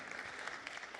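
Steady applause from a council meeting audience honouring a local minister and his wife, dense continuous clapping filling the room at moderate level with no talk over it.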